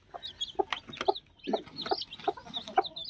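A pure white hen and her chicks, some with black markings, cluck softly near a coop in short repeated calls, close and fairly quiet, with faint peeping between them.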